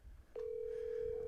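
A steady telephone ringback tone begins after a brief pause and holds continuously at moderate level while a caller waits for an answer, with faint background noise and no talking.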